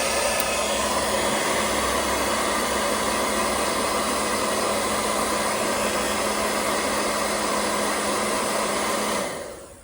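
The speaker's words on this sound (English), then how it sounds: "So I'm gonna turn this on to low heat." A hair dryer running on low heat blows steadily at close range to soften adhesive on leather car dashboard, a constant whirring hiss that cuts off and winds down at the very end, with no talking.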